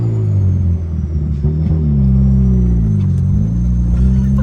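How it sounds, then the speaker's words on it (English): A turbocharged drift car with a loose drivetrain and bad differential mount rolls along with a deep, steady low rumble, punctuated by faint knocks and clunks from underneath, without any talking. "something other than just that diff mount is clunking back there."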